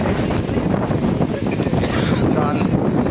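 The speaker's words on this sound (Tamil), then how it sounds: "ரொம்ப காற்று அதிகமாக அடிக்குது" Strong wind buffets the microphone at a hilltop viewpoint in Yercaud, a loud, continuous roaring rumble that stays rough and gusty throughout.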